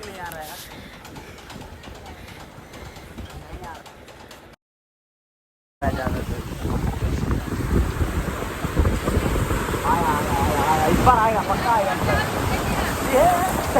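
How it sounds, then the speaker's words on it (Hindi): Ocean waves wash onto the beach at Dhanushkodi near Rameshwaram, a loud continuous surf roar mixed with gusting wind buffeting the microphone, with a brief gap of silence partway through. "और लहरों को देख रहे हैं कितनी दूर आती है।"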